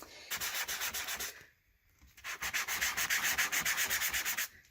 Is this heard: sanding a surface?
yes